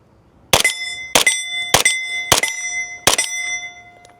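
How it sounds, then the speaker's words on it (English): Five sharp, evenly spaced suppressed 9mm shots from an MP5 clone fitted with Geissele parts, each a bright metallic crack with a short ringing tail, followed by a fainter sixth report. The shots are close and loud, with no voices. "let's see what this Subsonic sounds like"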